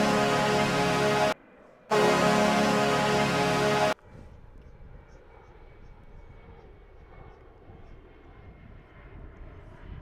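Qantas Boeing 787-9 Dreamliner arriving at DFW International Airport, a loud broadband jet roar for the first four seconds with a brief dropout, then falling to a faint distant rumble.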